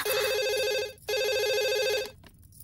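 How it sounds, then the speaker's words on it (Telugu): A telephone rings as a call comes in from a public phone, two loud electronic trill bursts separated by a short gap, with no voices over it. "తల్లి గుర్తుకొచ్చి పబ్లిక్ ఫోన్ నుంచి అబ్బాయి ప్రైవేట్ గా ఫోన్ చేస్తాడు"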